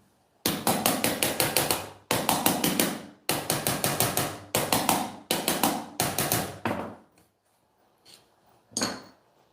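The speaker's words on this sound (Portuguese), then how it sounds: "E com o auxílio do martelinho, tu vai dar leves batidas em cima do friso" A small hammer strikes a metal bead in rapid, light, evenly spaced taps, grouped into five bursts of about eight to ten hits each, close and crisp, followed by a pause and a couple of isolated knocks.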